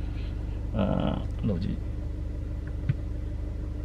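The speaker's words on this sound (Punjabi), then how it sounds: "ਜੇ ਏ ਸੀ ਲਾ ਲਿਆ ਉਹ ਪੱਖੇ ਦੀ ਆਵਾਜ਼ ਆਈ ਜਾਣੀ ਵਿੱਚ" Inside a Kia Seltos, the AC fan gives a steady low whir over the engine's idle hum, running unbroken throughout while someone speaks briefly.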